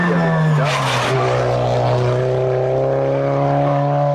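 A race car climbs the course at the Saint-Jean-Pierre hill climb, its engine droning loud and close at sustained high revs, with a brief burst of tyre or exhaust noise near the start before the engine settles into a steady, receding note.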